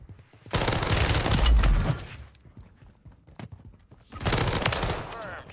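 Two long bursts of rapid automatic gunfire in the video game Warzone rattle loudly and close, separated by a quieter gap with scattered single shots and game noise.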